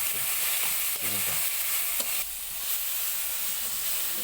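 Ripe tomatoes with sugar fry in a pan, a loud continuous close-up sizzle with a few soft stirring knocks and scrapes.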